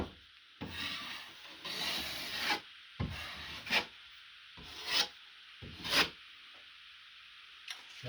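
A drywall knife scrapes excess joint compound off freshly taped wall in a series of short rasping strokes, about six separate passes with quiet gaps between. The strokes are close and distinct, with no talking.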